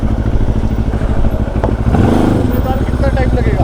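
An Xcape 650x motorcycle rides a slippery mountain road near Chandratal, its engine a steady, loud rumble with a pulsing beat that rises and shifts partway through, while a voice talks over it.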